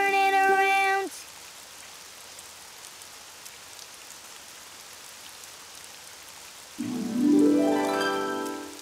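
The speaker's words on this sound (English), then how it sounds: "Oh, it's raining outside." Rain falls outside as a soft, steady patter between two bursts of tonal music and singing at the start and end.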